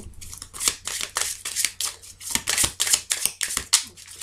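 Tarot cards being shuffled and drawn for a horoscope reading, brisk rhythmic riffles and papery flicks repeating steadily up close with no voices.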